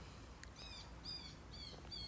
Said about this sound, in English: It's blue jays.